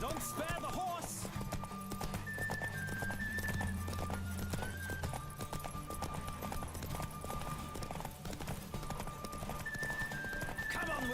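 Rapid hoofbeats of a galloping horse in The Witcher 3: Wild Hunt pound continuously, with occasional whinnies and voices talking over the clatter, under a busy layered soundscape.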